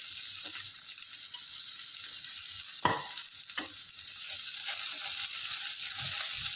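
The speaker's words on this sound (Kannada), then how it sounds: "ಈಗ ಮೆಣಸಿನ್ಕಾಯಿ ಹಾಕ್ಕೊಳ್ತಾ ಇದ್ದೀನಿ" Green chillies dropped into hot oil for a home-style chicken curry fry with a steady, bright sizzle throughout, a couple of sharp spattering crackles and faint stirring clinks close by, with no one talking.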